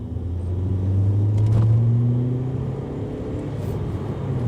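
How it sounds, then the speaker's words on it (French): A turbocharged Audi A3 1.8 20V engine with a Stage 2 tune rumbles steadily at close range, with a faint rising whistle of the turbo spooling up partway through. "on entend le turbo se déclencher"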